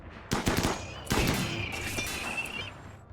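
Defensive turrets in RimWorld fire rapid automatic bursts at a front kill box, two dense volleys of crackling gunfire with a lingering whine trailing off, no voices.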